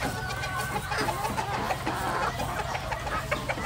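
Chickens at an ostrich farm cluck and chatter continuously in a busy, overlapping chorus, fairly near, with no speech over them.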